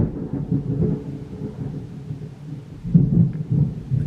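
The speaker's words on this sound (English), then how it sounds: "that thunder was really loud and I think it's about to storm" Loud, deep thunder from an approaching thunderstorm rolls and rumbles in two swells, with faint rain behind it and no talking.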